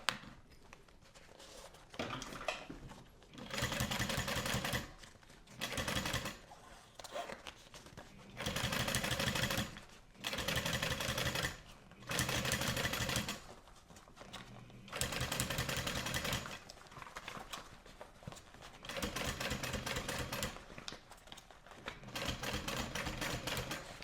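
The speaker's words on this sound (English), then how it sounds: "sewing from the exterior, I'm going to sew an 1/8 inch around the perimeter" A sewing machine top stitches a duffel bag an eighth of an inch around its perimeter from the exterior, running in repeated loud bursts of rapid stitching separated by short pauses.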